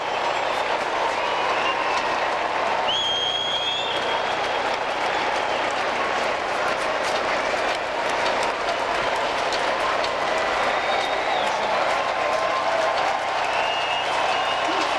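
A baseball stadium crowd of just over 10,000 at a Cincinnati Reds versus Montreal Expos game keeps up steady applause and cheering, a dense continuous roar with whistles throughout, fans on their feet during a two-strike count late in the game.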